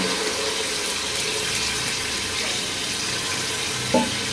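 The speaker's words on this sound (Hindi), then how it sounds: "अब मैं इसमें 2 गिलास तकरीबन पानी जो है वो शामिल कर दूंगा" Water is poured steadily into a cooking pot of frying beef korma, a continuous gushing splash lasting several seconds, close and fairly loud, ending with a small clunk.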